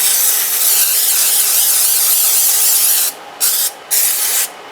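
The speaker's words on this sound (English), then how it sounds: "The first thing I'm going to do is spray my pan." Cooking spray hisses in one long continuous burst onto a 9x13 baking pan, then three more short sprays follow in quick succession, close and loud with no talking.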